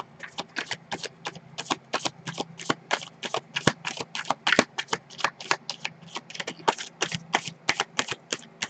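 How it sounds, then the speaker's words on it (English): Tarot cards shuffled by hand in a rapid, even run of crisp riffling flicks, close and steady for several seconds with no talking. "I am going to go ahead and pull some more cards"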